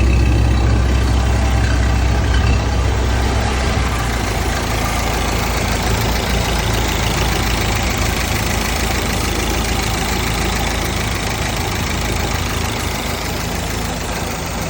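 An early Ford Model T engine runs at a steady idle nearby, with a continuous, even rumbling drone and slight knocking throughout and no talking.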